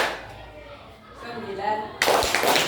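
A classroom of students bursts into group handclapping in a counting game, a short, loud clatter arriving after a stretch of an adult voice speaking.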